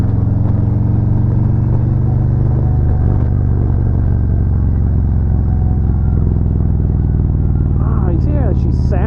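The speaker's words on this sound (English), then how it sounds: "Engine braking." Motorcycle engine braking while riding on an interstate, a loud steady rumble with harmonic drone and wind roar throughout, shifting near the end into a gurgling note.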